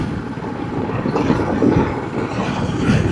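Steady, loud rumble of a train entering Khagraghat station near the Baharampur railway gate, heard from a passing road vehicle and mixed with wind buffeting the microphone.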